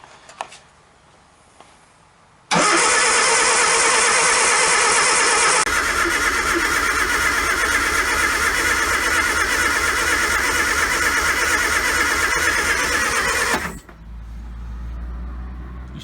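A classic Mini's engine fired for the first time after restoration, silence broken by a loud cranking burst that catches into a steady roaring run, then cuts back to a lower rumble near the end.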